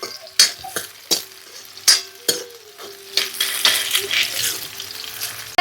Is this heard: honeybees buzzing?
no